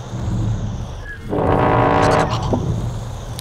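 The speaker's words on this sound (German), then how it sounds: "ich will hier tröten." A creature in The Eternal Cylinder blows a single loud, low trumpeting toot lasting about a second, with steady game ambience before and after.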